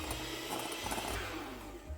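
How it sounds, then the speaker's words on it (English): An electric whisk beats meringue of egg whites with corn flour and caster sugar, giving a steady, faint whirring drone with a low mechanical rattle and no talk. "Now we're going to whisk it again until it's nice and glossy."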